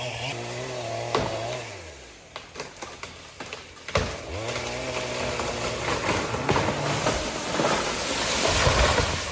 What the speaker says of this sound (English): Sounds like we're having dramas with the chainsaw.